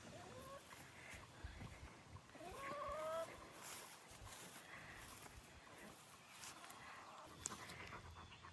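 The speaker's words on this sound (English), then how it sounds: "the chickens can come and go in there as they want." Chickens moving freely in and out of a shaded backyard coop with a tarp over the front, heard as scattered faint clucks and bird calls over steady outdoor ambience, with no talking.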